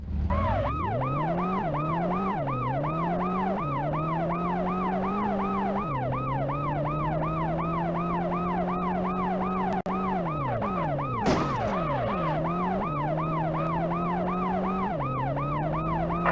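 Wailing ambulance siren from the 2001 PlayStation game World's Scariest Police Chases, sweeping up and down in a steady loud cycle throughout, with an engine drone beneath and no talk.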